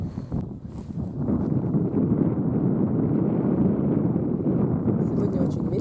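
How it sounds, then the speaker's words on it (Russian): Strong gusty wind buffets an outdoor microphone on a cool, sunny day in a forest clearing, a loud steady low roar with rustling, holding throughout with no clear voices. "Сегодня очень ветрено, погода прохладная"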